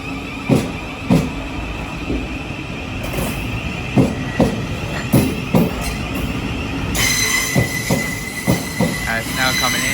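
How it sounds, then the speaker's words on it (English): A Class 700 Thameslink train pulls into a London terminus, its wheels squealing in high sustained tones over a rhythmic series of heavy clunks as carriages roll across track joints. "It's now coming in, it's the 10:11 Thameslink service from Brighton to Bedford."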